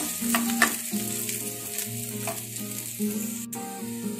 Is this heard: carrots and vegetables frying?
yes